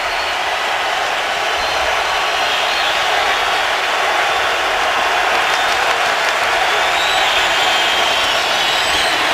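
Stadium crowd at an NFL game between the Carolina Panthers and the Tampa Bay Buccaneers, with loud, sustained roaring and cheering during a third-down defensive play, forming a dense wash of noise with no voices standing out.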